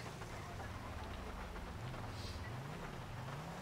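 Steady heavy rain hisses across the whole scene in a police-patrol video game, a dense even wash with a low vehicle engine hum droning underneath and no talk.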